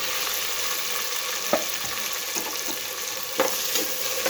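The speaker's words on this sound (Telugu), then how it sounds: "మెంతులు వేయించి ఇక పచ్చిమిర్చి కూడా వేసేస్తున్నాను తాలింపులోనే" Green chillies sizzling in hot oil with fried fenugreek seeds in a tempering for a cabbage and moong dal curry, a steady close hiss with a few sharp spatter pops and light stirring.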